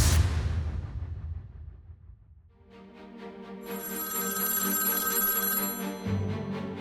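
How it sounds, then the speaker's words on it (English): An old telephone bell rings with a loud, sustained metallic trill that swells in the second half, following a fading noisy swell at the start. "the phone would ring"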